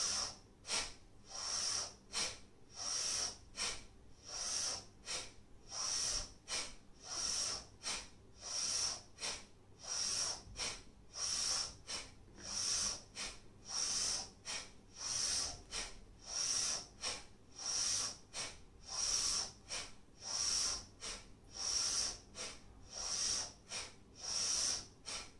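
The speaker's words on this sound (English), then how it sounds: "Breathe in." Deep, rhythmic breaths drawn in and let out steadily during a seated breathing exercise, each inhale a loud, close airy rush repeating about every one and a half seconds, with no talk.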